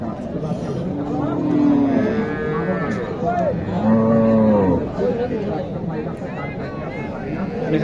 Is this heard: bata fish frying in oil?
no